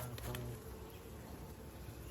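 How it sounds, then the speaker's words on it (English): Honey bees buzz densely around an opened beehive frame crowded with brood, a close, continuous hum with no talking. "Look how many bees is on that."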